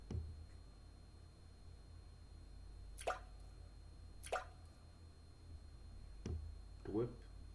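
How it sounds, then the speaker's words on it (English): Water drops fall one at a time, four separate drips with irregular gaps between them, each a crisp plop against a quiet background. "The sound of falling drops."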